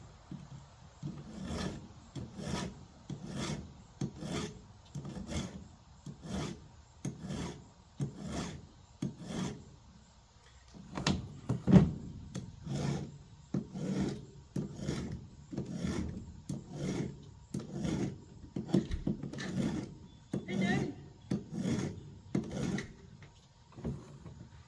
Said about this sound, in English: Sharpening the chainsaws?